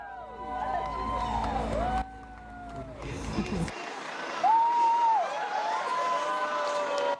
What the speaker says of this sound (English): a large crowd of well-wishers 2 days after that first launch attempt, still on the scene, greeting the crew